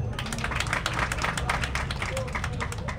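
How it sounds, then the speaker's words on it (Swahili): An audience clapping in applause, a dense patter of many hands sustained throughout with voices mixed in. "makofi kwake"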